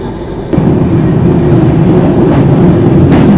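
A train runs steadily along a railway track on the line bypassing Itarsi junction, a loud, continuous rumble and rattle heard close up from onboard, with no one talking.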